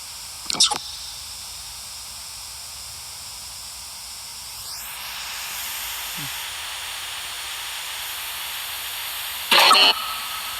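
A steady, even hiss of white noise fills the whole stretch during a cemetery investigation in Woodbridge, Connecticut, broken only by a couple of short, sharp bursts of noise.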